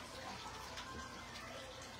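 Water pours over a horse in the stables, a soft, steady splashing gush heard faintly for a couple of seconds.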